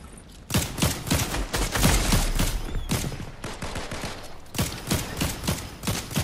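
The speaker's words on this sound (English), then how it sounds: "Who are you shooting at?" Video game gunfire rattles in repeated rapid bursts of automatic shots, loud and close, with brief gaps between volleys.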